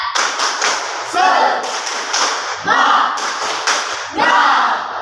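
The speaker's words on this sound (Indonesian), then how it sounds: "Tepuk semangat" A class of students stands and performs a rhythmic spirit clap in a classroom, with loud patterned bursts of group clapping and chanting voices recurring in several waves.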